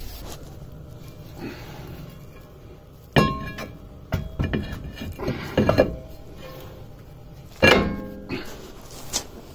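A brake rotor for a 2008 Saturn Vue is fitted onto the wheel hub, bringing a few sharp metallic clunks and knocks separated by quieter shuffling handling noise, close by with no talk.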